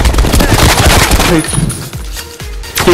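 Rapid automatic gunfire bursts loud and close in the video game Black Ops Cold War, fading into scattered shots and echoes by the end.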